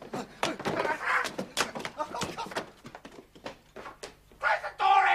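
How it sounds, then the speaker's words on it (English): A door bangs shut amid a scuffle of thumps and knocks, with voices and movement around it. "Close the door, Eddie!"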